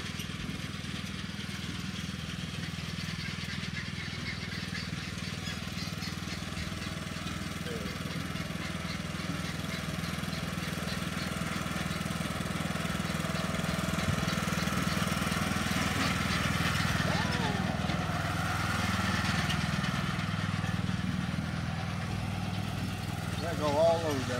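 A tractor engine drones steadily throughout at moderate distance, a continuous low rumble that swells slightly toward the end, with no speech over it.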